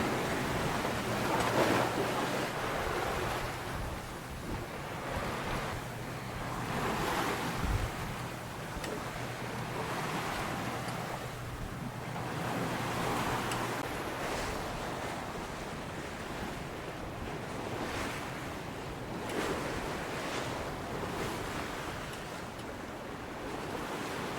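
Faint, steady rush of wind and waves around a sailboat at sea in a 14 to 16 knot breeze, with the wash of water rising and falling in slow surges.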